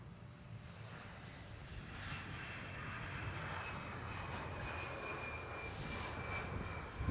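Airliner touching down at Amsterdam Schiphol airport, a steady broad engine roar with rushing wind noise that holds throughout, fairly close and loud, with no voices.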